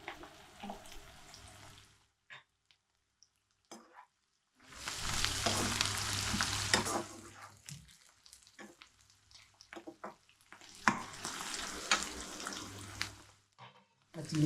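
Chicken frying in a pan, bursts of loud sizzle and stirring separated by quiet gaps, with faint low voice-like sounds in between.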